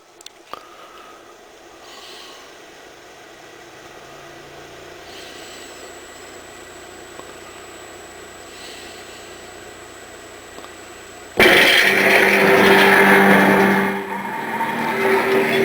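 A Pioneer CLD 1080 laserdisc player bought from a junk shop spins up, its faint motor hum and whir rising steadily before a sudden loud burst of engine-like playback sound takes over near the end.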